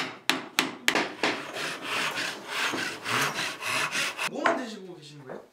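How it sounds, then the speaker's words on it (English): Hand tools cutting wood for Korean traditional changho window frames in a craft workshop: a few sharp knocks open, then close, rhythmic rasping saw strokes back and forth, ending in a brief squeaky scrape. "Hammering, cutting, measuring, and cutting again."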